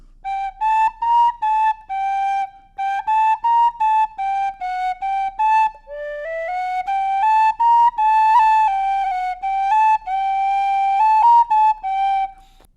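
A tin whistle plays a slow, lilting melody alone, its clear, breathy notes rising and falling in short connected phrases.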